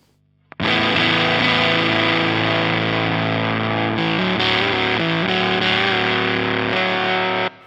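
An electric guitar runs through a fuzz, distortion, saturation and overdrive pedal, producing thick, saturated sustained chords that ring loudly and continuously with a few changes, with no talking over them.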